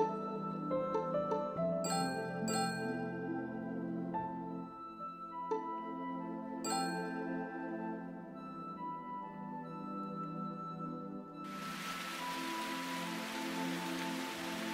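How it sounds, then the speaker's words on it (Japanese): Steady rain sets in within the Japanese adventure game Root Letter, a broad constant hiss swelling near the end over soft chiming game music. "雨が降ってきたな。"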